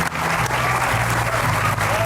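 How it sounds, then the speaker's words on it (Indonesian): Studio audience at a rooftop talk show applauding, a steady, loud wash of clapping that runs for about two seconds, with a low background hum underneath. "ini boleh tepuk tangan dulu sekali lagi"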